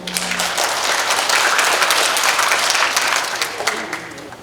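A crowd at a Korean book launch event applauds steadily for several seconds, a dense, even wash of clapping at a fairly close distance.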